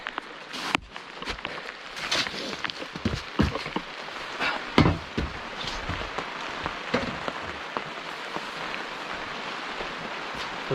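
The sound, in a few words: rain falling outdoors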